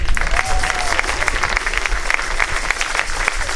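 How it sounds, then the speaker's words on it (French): A congregation at a closing Mass for a pastoral visit applauds itself, loud sustained clapping from a large crowd with a brief voice early on. "Applaudissez-vous vous-même."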